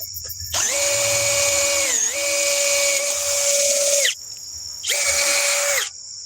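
A $100 cordless drill from Home Depot with a 2 amp-hour battery runs at speed 1 boring with a 1-inch bit, a loud steady whine that dips under load, stops, then spins up again.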